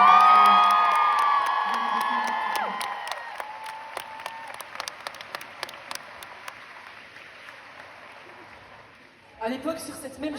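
A concert audience at Palais 12 breaks into loud applause and cheering, with shouts and whistles over dense clapping that slowly fades to scattered claps before a voice speaks at the end.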